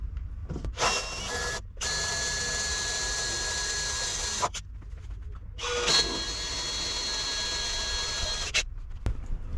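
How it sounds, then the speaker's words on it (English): Power drill boring holes to fix a campervan awning to its bracket, with three sustained whining bursts separated by short pauses, close and fairly loud. "Don't push too hard with the drill, otherwise you could push the awning off"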